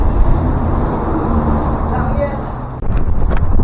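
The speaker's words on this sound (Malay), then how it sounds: "Oh angin kuat, angin agak kuat ah." Strong wind roars across the microphone during a fishing trip under the Penang Second Bridge, a dense, steady, rumbling buffet that persists throughout with a brief dip near the end.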